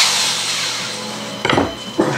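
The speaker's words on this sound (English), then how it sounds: "drill the size of the hole for the rivet" A drill bores a rivet hole in a go-kart part, starting with a faint, steady whir. Two short, harsher grinding bursts follow as the bit bites into the workpiece, with no talking.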